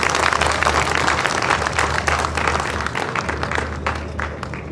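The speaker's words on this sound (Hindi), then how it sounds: "प्लीज तालियां बजा दें अपने मेहमानों के लिए।" A crowd applauds to welcome a guest speaker at a Sindh livestock and fisheries event on camels and camel milk, dense loud clapping sustained throughout, slowly thinning toward the end, with a low steady hum beneath.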